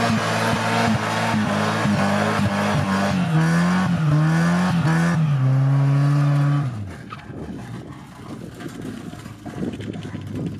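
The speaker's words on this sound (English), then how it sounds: "Do you think it'll do a burnout?" A Mazda Miata revs hard and spins one rear wheel in a burnout, the engine note climbing and wavering loudly for several seconds, then cutting off abruptly into quieter rumble and tire noise.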